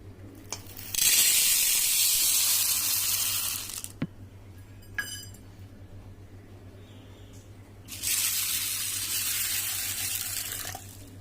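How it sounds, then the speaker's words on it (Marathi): Soaked mung beans are rinsed under running tap water in two bursts of loud splashing flow, separated by a quieter stretch with light clinks and rattles of the bowl. "2-3 पाण्याने आहे ना धुवून घेतले स्वच्छ असे आणि त्याच्यानंतर पाणी घालून झाकून ठेवते"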